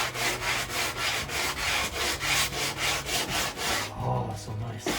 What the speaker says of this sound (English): When you sand it to bare wood, guess what? That paint can't peel around